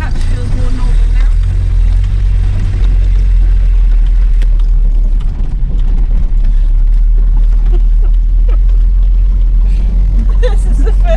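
A Land Rover Lightweight on a test drive gives a loud, constant low rumble of engine and road noise heard from inside, with a heavier drone in the first few seconds that then evens out.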